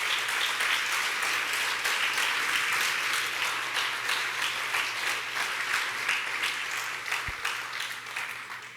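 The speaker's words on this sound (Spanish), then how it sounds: "Dale un buen aplauso a mi Jesús" A church congregation applauds at a steady, dense level, many hands clapping together in a sustained wash that tapers slightly toward the end.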